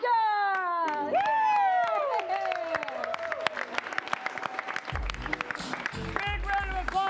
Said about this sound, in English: Big round of applause for your winner of the night, Kristen Schier.